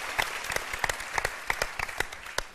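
A television talk show's studio audience applauds in a steady, moderately loud patter of individual claps with a few sharper strikes standing out over the crowd.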